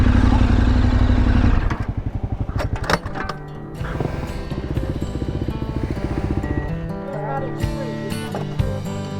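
Adventure motorcycle riding along Rollinsville Pass on a Colorado mountain road, a loud steady engine drone with rising and falling revs over rough ground, close to the mic, with occasional clatter and faint voices.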